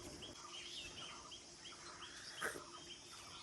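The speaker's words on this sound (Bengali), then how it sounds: "চারিদিকে সব পাখি ডাকছে" Birds chirp and call faintly at dawn around a quiet village, with several thin, scattered tweets over a low, steady background hum.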